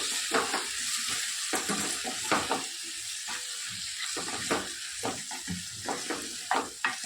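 Vegetables with spices and salt being stirred in a hot frying pan in a home kitchen, a steady sizzle broken by repeated scraping strokes of a spoon against the pan, close and clear with no talk.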